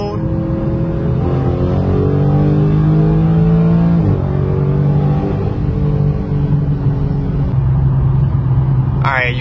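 A car engine drones steadily in Mexico city traffic, a low, loud rumble with shifting pitch as the vehicle accelerates and eases off, ending with a short higher noise.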